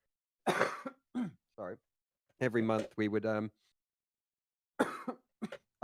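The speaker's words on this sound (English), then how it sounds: "had this cough for like a month or so now," Several short, harsh coughs from a cough lasting about a month come in separate bursts, close and fairly quiet, mixed with a few spoken words between them.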